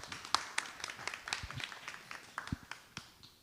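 A forum audience in Chungnam claps to welcome a speaker. The applause is fairly quiet and scattered, with distinct individual claps of uneven rhythm that thin out toward the end.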